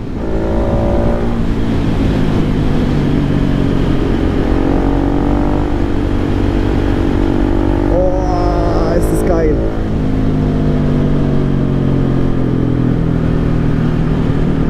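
Husqvarna 701 single-cylinder motorcycle engine running steadily and loudly throughout with a continuous throbbing drone, captured up close from the rider's position, while someone talks over it.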